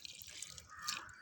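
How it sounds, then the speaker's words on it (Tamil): Rainwater poured from a container onto a potted flowering plant, a soft, quiet trickle and drip of water on soil over about a second, with no talking. "தண்ணி ஊற்றிடலாம். இது வந்து மழை தண்ணி."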